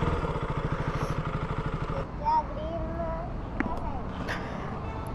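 A motorcycle is parked near the DC office in Karwar. Its engine idles with a close, rhythmic putter for about two seconds and then cuts off, leaving light clatter and a person talking nearby.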